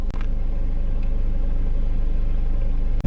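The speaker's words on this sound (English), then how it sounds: "we got a car coming behind us" Steady low rumble of a car approaching from behind on a rural road, continuous and fairly close, with a couple of brief knocks near the start and end.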